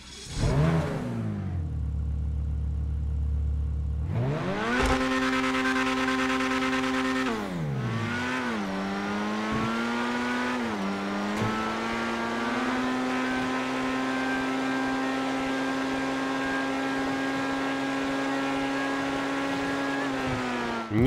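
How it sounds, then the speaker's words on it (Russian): A Grotti Itali GTO Stinger TT sports car engine in a video game revs up and down in steady swells, rising in pitch through several gear shifts and then holding a sustained high drone. "Немного послушаем звук работы его двигателя."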